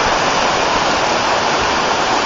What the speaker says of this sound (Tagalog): Mula sa umaagos na tubig.